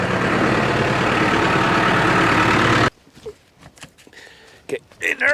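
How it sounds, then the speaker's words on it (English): An engine idles with a steady, loud rumble for about three seconds, then cuts off abruptly, leaving quiet background with scattered handling noises and movement nearby. "I'll turn the engine off before I put that on"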